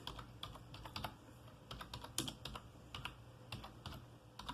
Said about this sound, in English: Type in Control Panel.